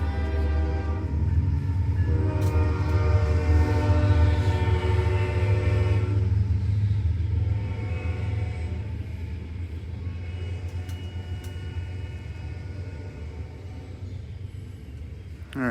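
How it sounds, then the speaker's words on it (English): A train rolls past with a long, loud horn blast in the first half, then the rumble of the cars lingers and slowly fades, with no talk over it. "Alright, Choo-Choo Train's gone now."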